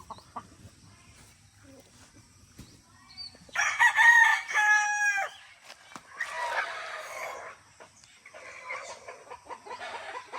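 A fighting rooster of a battle cross line on a game farm crows loudly nearby, then gives further calls and clucks, with a faint voice and low rumble at the start.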